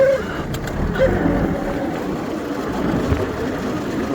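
Kubota GT3 mini tractor driving on a cold day, its engine a steady low rumble close by with light rattling and no pauses.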